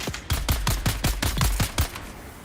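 A rapid burst of about ten close, sharp gunshots from a weapon in Dune Awakening, fired in quick even succession before cutting off.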